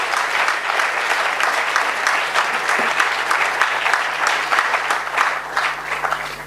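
A church congregation applauds, with many hands clapping in a full, steady roar that keeps up throughout. A faint low hum runs underneath.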